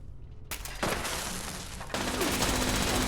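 Gunfire in Fallout 76, heard as a dense, sustained burst of rapid shots that suddenly grows louder and fuller partway through, with no talking over it.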